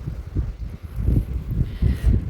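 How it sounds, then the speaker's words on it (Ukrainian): Wind buffets the microphone in low, uneven gusts, thumping and rumbling in short bursts, on a snowy day as wind bangs a gate. "тепер вітер бахкає"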